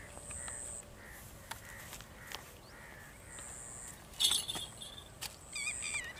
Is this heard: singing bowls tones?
no